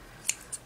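Scissors snip through fabric while a sewer trims seam allowances on an unbalanced ruffle dress, giving two or three short, crisp cuts in a quiet room.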